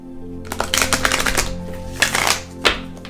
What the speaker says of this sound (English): I like to just shuffle them one more time and then split the deck 3 times